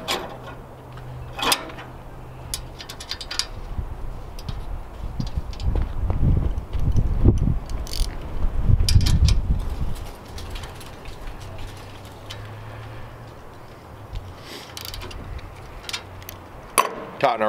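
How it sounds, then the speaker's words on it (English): A ratchet tightening a 16 millimeter bolt on a trimmer rack padlock mount, with quick clicking strokes that come in bursts and then fade, up close and loud, with no talking. "Tighten our 16 millimeter bolt back up."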